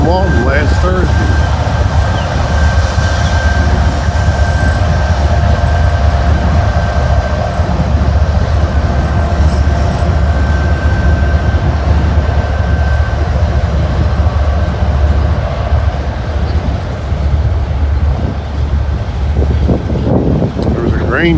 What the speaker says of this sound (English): intermodal / auto rack train